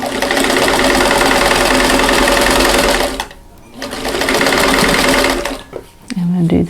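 A sewing machine stitches quilt block seams in a rapid, steady mechanical chatter, pausing briefly and restarting, with a short stop and a faint handling noise near the end.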